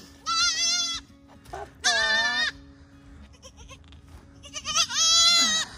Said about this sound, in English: These are the goats I waited for all night last night, and they're finally born.